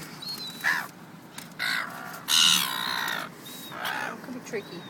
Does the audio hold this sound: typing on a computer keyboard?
no